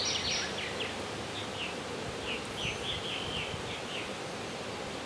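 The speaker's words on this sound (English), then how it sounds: "Bees on the side here." Honey bees buzz around a hive in a continuous close hum, with individual bees darting past and a few brief higher chirps over the steady drone.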